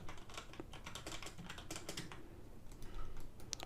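Rapid, steady typing on a computer keyboard while modeling a dice cube in 3ds Max, with dense clicky keystrokes running throughout, close and moderately quiet, with no speech.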